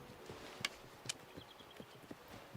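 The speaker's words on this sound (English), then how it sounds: "as I'm hearing footsteps here, I realize that they are, emerging from the bushes here" Animal footsteps emerging from bushes in the hunting game Way of the Hunter: soft, irregular hoof-like steps on the ground with a couple of sharper snaps, faint and close, no voices.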